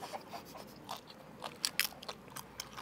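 Faint crunches and crackles as someone bites into and chews a crispy slice of garlic beef, double cheese pizza, a series of short brittle snaps without talk.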